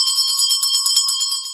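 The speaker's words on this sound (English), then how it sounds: "A prayer bell, that's right." A prayer bell rings continuously, loud and close, with a bright, shimmering metallic tone that flutters rapidly for its whole short length.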